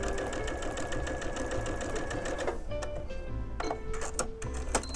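A sewing machine steadily stitches quilt block pieces for a bird-themed sampler quilt, a continuous mechanical whir that pauses briefly, then resumes with short bursts.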